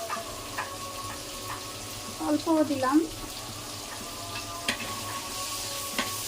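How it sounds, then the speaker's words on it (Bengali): Onion and shrimp sizzle in a frying pan as a shrimp dish cooks, with a steady hiss and a brief burst of stirring clatter beneath a short spoken remark. "এখন পেঁয়াজ আর চিংড়ি মাছটা আরেকটু ভাজা ভাজা করে নেব।"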